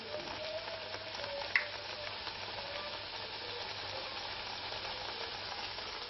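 Rice flour sarva pindi roasting in a pan makes a faint, even crackle and hiss that stays steady throughout, with one brief small clink early on.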